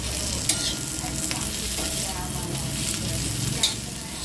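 Cluster beans fry in a hot pan with steady sizzling, while a utensil stirs through them and scrapes the pan a few times, close and fairly loud.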